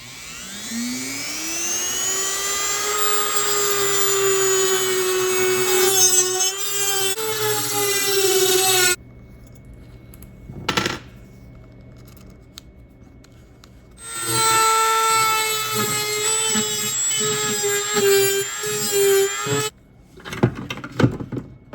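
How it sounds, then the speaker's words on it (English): A Dremel with a worn metal cutoff wheel screams as it spins up and cuts, its pitch wavering under load. The tool stops abruptly, then quiet clicks follow before a second long cutting run and a few brief sounds at the end. "I got my little metal cutoff wheel that's seen better days, but this should still do the job"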